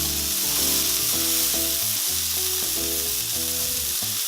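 A burger patty topped with a slice of cheese sizzles steadily on a hot griddle, a loud, continuous frying crackle with no voices.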